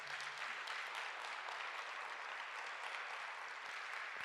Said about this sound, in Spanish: Da un aplauso a mi Señor.